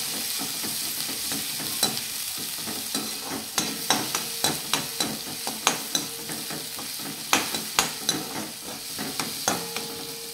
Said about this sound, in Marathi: कांद्याला छान गुलाबी रंग येईपर्यंत आपण परतून घेऊ।